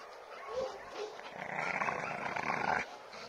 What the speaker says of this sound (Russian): Крокодил, рычи.